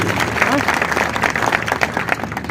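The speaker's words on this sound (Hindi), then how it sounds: "जोरदार ताली बजावा मिली सबके लिए।" A crowd at a political rally claps and applauds loudly and steadily, with dense clapping and some voices mixed in.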